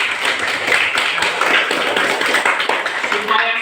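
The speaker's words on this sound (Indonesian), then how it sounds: "Oke, tepuk tangan dulu." Schoolchildren clap their hands together in a classroom, a dense, steady patter of many small claps lasting several seconds with no pauses, with some chatter from the children mixed in.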